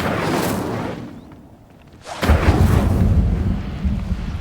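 An Incendio fire spell in Hogwarts Legacy bursts with a deep rumbling whoosh, fades briefly, then flares again into a loud, roaring boom that trails off into sustained low rumble.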